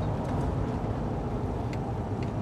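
A CNG natural gas diesel truck accelerates over gravel, giving a steady, loud, low engine rumble with road noise heard from inside the cab, without talk.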